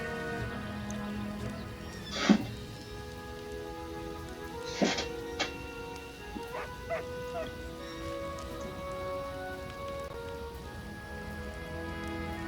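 A dog in the Pathfinder Kingmaker video game gives two short, fairly close barks a few seconds apart over a steady hissing ambience resembling rain, followed by faint softer chirps and tones.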